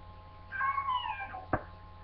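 A cat in an animated cartoon gives one drawn-out, wavering meow, followed by a short sharp knock, with no talking.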